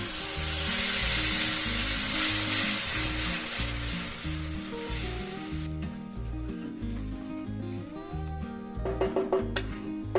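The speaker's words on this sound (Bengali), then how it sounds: "এবার 1 কাপ টমেটো পেস্ট দিয়ে ভালো করে নেড়ে চেড়ে নিচ্ছি।" Tomato paste stirred into a sizzling pan for matar paneer: loud hissing frying for the first half, then quieter with scraping stirs and a few sharp clinks near the end, under background music with no talk.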